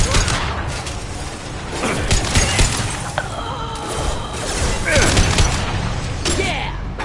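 Gunfire and impacts in Mass Effect 2 Legendary Edition on PS5: loud, dense bursts of shots and crashing hits that rattle on for several seconds.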